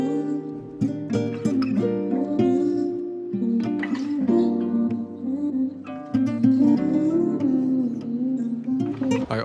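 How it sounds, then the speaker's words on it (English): Chopped vocal slices rearranged in Fruity Slicer into a new pattern for a guitar R&B sample, playing as a continuous, loud stream of short tonal vocal fragments with a steady rhythmic feel. "I sliced them up and came up with a new pattern that sounds like this."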